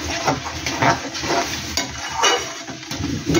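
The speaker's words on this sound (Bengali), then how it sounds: "এইভাবে নেড়ে নেড়ে একটু ঘনত্ব আসবে।" Sour jujube pickle syrup stirred in a pan, a spoon scraping and clinking in repeated strokes with a soft thickening bubble beneath, close and steady.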